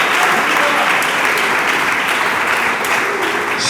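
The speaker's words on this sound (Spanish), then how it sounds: "Esas palmas son para Él, el Dios del cielo" A church congregation claps in a dense, sustained burst of applause filling the room, loud and steady throughout with no pauses.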